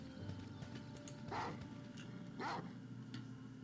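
Snarling, barking war dogs in Baldur's Gate: Tales of the Sword Coast, two bursts of growling barks over a steady low rumble of game ambience.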